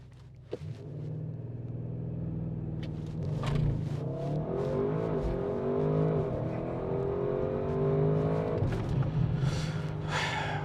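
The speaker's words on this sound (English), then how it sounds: "Let's launch it, should we?" A 2023 Audi RS6 Avant engine idles, then revs hard and roars as the car launches and accelerates, pitch climbing through gear changes, loud and close from inside.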